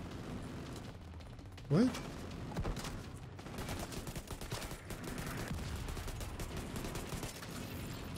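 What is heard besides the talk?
mortar fire and gunfire in a video game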